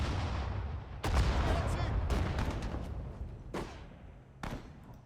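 Ordered units in the Sudden Strike 4 war game open fire with gunfire and artillery, giving several heavy booming blasts and rumbling echoes at irregular intervals, with voices talking underneath.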